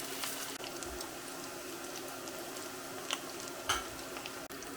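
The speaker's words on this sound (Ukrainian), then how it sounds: "Викладаємо котлетки на розігріту олію" Steady sizzling of alfalfa patties frying in hot oil over medium heat, with a few louder crackles and pops scattered through the constant hiss.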